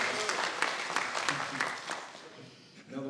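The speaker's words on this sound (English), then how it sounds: "Let's give him a round of applause" An audience at a 2022 Grand Forks all-candidates forum applauds the moderator, a Chamber of Commerce representative. Clapping stays steady and fairly close for about two and a half seconds, then fades, and a voice starts speaking at the very end.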